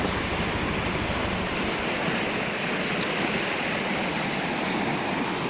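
A village river flows in a dense, continuous rushing wash close to the microphone, steady throughout with a slight low wind rumble.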